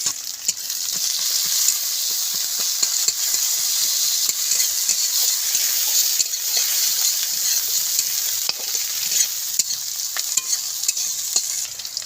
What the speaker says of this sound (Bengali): দেবো পেঁয়াজ কুচি।